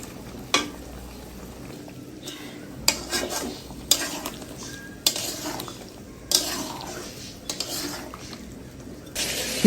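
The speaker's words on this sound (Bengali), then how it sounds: "মশলা অ্যাড করব এবং খুব সুন্দর করে কষিয়ে নেব। সুন্দর করে কষিয়ে নিতে হবে চিকেনটা।" Chicken with spices for biryani is stir-fried in a pot, a low sizzle punctuated by loud, regular clanks of a spatula against the metal every second or so, heard up close.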